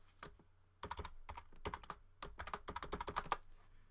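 Rapid keystrokes on a computer keyboard as a password is entered at an admin login prompt, a quick irregular run of close, crisp clicks with a short pause before a second burst, no talking.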